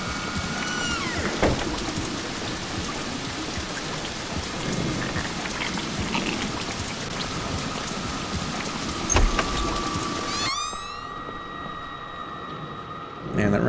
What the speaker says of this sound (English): Man, that rain was actually kind of loud.